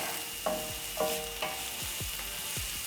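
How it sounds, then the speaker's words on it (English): Green onions frying in a pan, a steady soft sizzle with a few scraping stirs of a utensil at intervals, fairly quiet and close, with no talking. "So I'm going to cook until the onions are soft"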